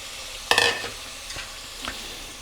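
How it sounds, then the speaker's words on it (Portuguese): Onion and paio sausage are sautéed in a pan over medium heat aboard a boat: a loud stir-and-sizzle burst, then softer scraping stirs and a faint steady frying hiss, with no talking. "Coloquei o paio, refogo. Aumenta um pouquinho o fogo nessa hora, já deixa o fogo médio."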